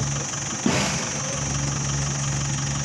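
A manual car idles steadily with a constant low hum as the clutch is let out, a brief surge in the engine note marking the moment it catches before settling back to an even drone.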